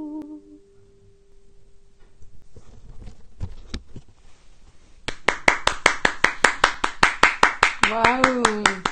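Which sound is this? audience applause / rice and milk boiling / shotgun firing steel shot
audience applause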